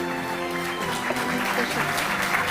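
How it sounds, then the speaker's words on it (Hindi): Audience applause at a Delhi government award ceremony honouring athletes, dense steady clapping from a crowd filling the whole moment, with a faint tonal hum beneath. "जोरदार तालियां।"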